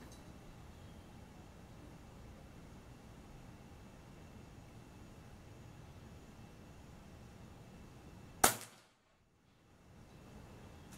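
An Air Venturi Avenger 5.5 mm air rifle fires a Destroyer pellet with one abrupt, close snap after a long stretch of low background noise, and near silence follows.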